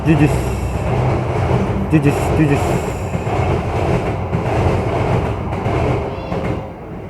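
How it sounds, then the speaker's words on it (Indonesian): A train rumbles past close by, its heavy rolling noise and rattling wheels filling the scene before easing off toward the end. "ini ada kereta, kita pause dulu sebentar"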